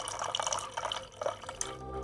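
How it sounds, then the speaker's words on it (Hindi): Water trickles and drips into a glass in an indoor household setting, a light continuous pour with small splashy drips, heard close and alone without talk. "भाई रजिया जरा मुझे एक गिलास पानी दे दीजिए"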